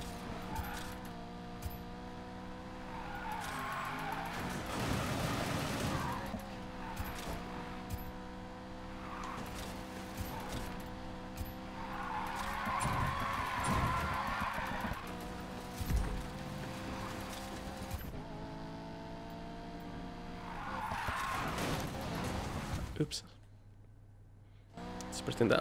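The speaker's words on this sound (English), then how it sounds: "I do love drifting though." Cars drifting in the Need for Speed Payback racing game, a steady engine drone with rising and falling revs and several bursts of tyre squeal and skidding, under game music and a speaking voice.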